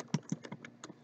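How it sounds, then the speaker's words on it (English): A short burst of typing on a computer keyboard: about six close, crisp key clicks in quick, slightly uneven rhythm. "Let's type in sudo"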